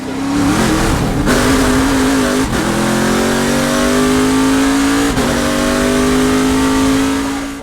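Camaro ZL1 race car with a 700 hp LSX crate V8 and sequential six-speed, revving hard on the Road Atlanta road course; loud, close engine note climbing steadily through gears with brief shift breaks, no talking.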